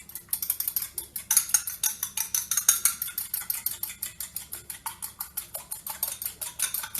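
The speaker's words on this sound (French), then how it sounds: "avec une fourchette, vous les battez comme pour une omelette" A fork beats eggs in a bowl for waffle batter, a quick, steady run of light metallic clicks against the bowl that repeats evenly throughout, close and clear.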